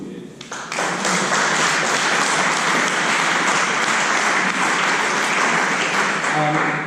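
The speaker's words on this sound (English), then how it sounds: "I do want us to give them a round of applause." At an annual general meeting, the audience gives the interim committee a sustained round of applause, loud and continuous clapping that swells after a brief start and holds steady, with some voices mixed in.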